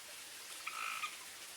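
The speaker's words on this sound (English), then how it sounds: "I hear a little tree frog out there. Must be by the pond." A little tree frog calls outside near a pond, a single faint, distant trilling croak lasting under half a second against a quiet indoor background.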